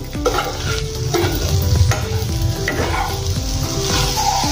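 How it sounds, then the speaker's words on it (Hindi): Okra and potatoes fry in a pan with a steady, close sizzle while a spoon stirs them, scraping and clinking in irregular strokes throughout, with no voices. "बीच बीच में ऐसे चम्मच से हिलाते जाइए"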